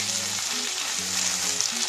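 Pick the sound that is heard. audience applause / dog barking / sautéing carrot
sautéing carrot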